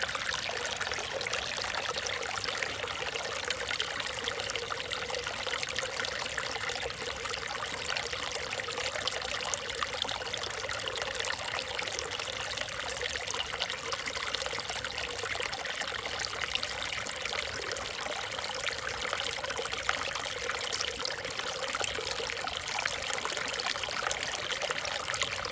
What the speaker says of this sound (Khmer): ទឹកនេះថ្លាមែនទែនវាទឹកភ្នំជ្រោះហូរមកចេ